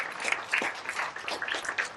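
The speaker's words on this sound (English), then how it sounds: "Can we have a round of applause for us? Big round of applause." An audience at a book awards event claps in a short burst of applause, a brisk mix of many hands at moderate volume.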